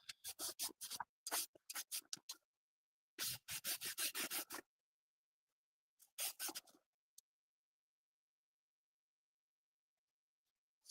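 Brush scrubbing a KLR motorcycle part, close and crisp: quick bursts of back-and-forth strokes, then a longer run of scrubbing, a shorter burst, and silence to the end.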